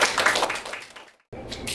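Clapping from an audience welcoming a pansori performer at a Korean traditional music awards ceremony in a small auditorium, a short burst of claps that fades into a brief silence before sound resumes.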